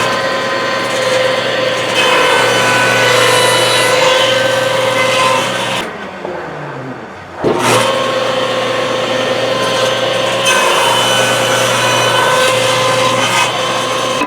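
A table saw cuts wood strips to 14-inch length against a fence stop, its loud steady whine running throughout and briefly dropping as one cut ends before spinning back up.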